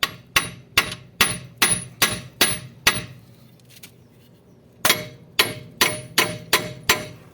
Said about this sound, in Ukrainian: Тепер потрошечку його простукаємо.